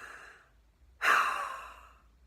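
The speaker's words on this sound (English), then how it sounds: "Take in a full tank of air and exhale as fast as you can without sound." One sharp, forceful exhale of a full breath rushes out unvoiced, a loud breathy whoosh that starts abruptly and fades over about a second, following a quiet pause, with no talking.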